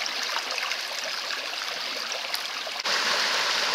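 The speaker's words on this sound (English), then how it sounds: "This again is the River Arle, variously known from this point onwards as the Arle or the Itchen" The River Arle runs past the Fulling Mill at Alresford with a steady, full rushing and burbling of flowing water, close and unbroken throughout apart from one brief dip, with no voices over it.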